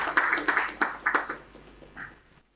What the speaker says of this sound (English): a huge round of applause for all the panelists